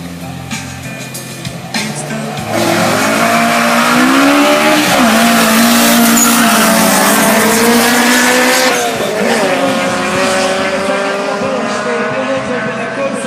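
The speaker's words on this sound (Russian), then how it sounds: "посмотрят, как едет Turbo CRX против атмосферного Корса" A turbocharged Honda CRX races a naturally aspirated Opel Corsa off the start line at a drag event. Engines rev hard and climb through the gears with tire squeal. The sound is loud and close, with crowd noise in the background.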